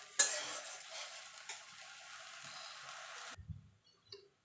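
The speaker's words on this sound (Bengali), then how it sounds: "এবার মশলাটাকে একটুখানি নাড়াচাড়া করে নেবো যাতে কাঁচা টমেটো আর আদার কাঁচা গন্ধটা চলে যাওয়া পর্যন্ত।" A spice masala with tomato and ginger is stirred in a pan for an aloo dum, a steady soft sizzle with light scraping, ending in a few quiet clinks and taps.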